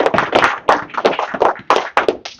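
Applause for a state representative at a Manatee Patriots local political meeting, dense hand clapping from an audience filling the short stretch, with sharper individual claps standing out near the front.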